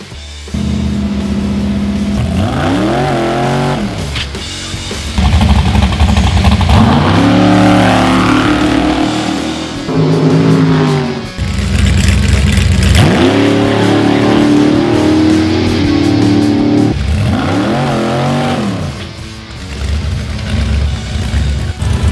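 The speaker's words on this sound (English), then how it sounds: "what you're going to hear if you listen to it is you hear the motor rev up, shift, and then you're going to lift" A drag racing car engine at a drag racing school, loud and close, repeatedly revving up with rising pitch, dropping at each gear shift, then lifting off; the cycle repeats several times over the long stretch.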